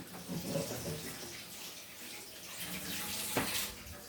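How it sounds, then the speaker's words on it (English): Water runs from a kitchen tap while food is rinsed in a tin colander, a soft continuous splashing stream heard close but at low level, with a brief louder splash near the end. "He is rinsing."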